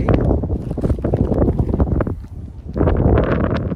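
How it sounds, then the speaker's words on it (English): Gusty wind buffets the microphone in loud, rumbling bursts while fishing for flathead, easing briefly in the middle before blowing hard again, with no voices. "getting a bit windy here."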